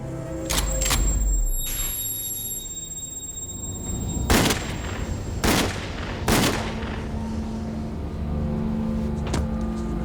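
Gunshots ring out in a film scene: three sharp, loud cracks spaced a second or so apart over a steady low engine hum, with a faint electronic whine early on.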